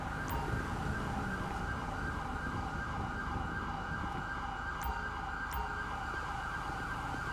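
Ambulance siren in the GTA 5 video game, a steady wailing tone held faint and distant throughout, with no talk over it.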